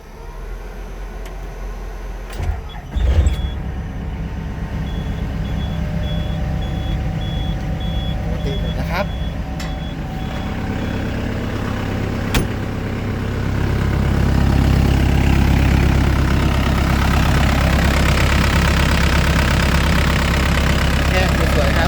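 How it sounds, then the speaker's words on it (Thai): A Sumitomo SK60-C excavator's diesel engine cranks and catches, then settles into a loud rumbling idle that grows heavier, with a faint intermittent beep early on. "เดี๋ยวมาฟังเสียงเครื่องยนต์ตอนสตาร์ทกันนะครับ"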